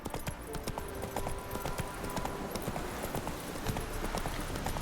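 Horse hooves clip-clop steadily in The Witcher 3 video game, a quick even trotting rhythm heard up close over a busy background.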